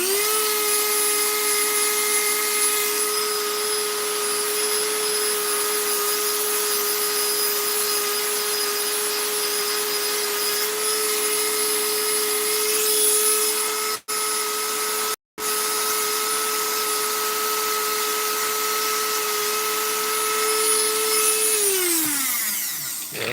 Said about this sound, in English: I have to use my Dremel tool,